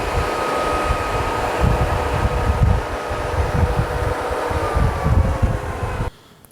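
A wood thickness planer switched on and running, a loud, steady mechanical roar with a deep rumbling hum that cuts off abruptly near the end, close by, with no talking.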